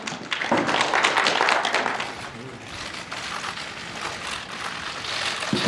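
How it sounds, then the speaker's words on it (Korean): Crowd applause greets climate change ambassadors stepping onto the stage at a Korean Ministry of Environment appointment ceremony, a dense wash of clapping that swells early and carries on steadily throughout. "큰 박수로 맞아주십시오."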